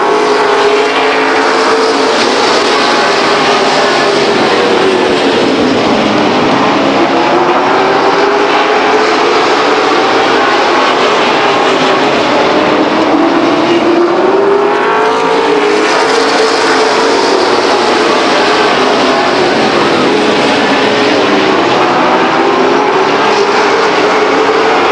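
Race cars roar around Stockton 99 Speedway under green flag racing, with loud, continuous engine noise whose pitch rises and falls as the pack laps the oval.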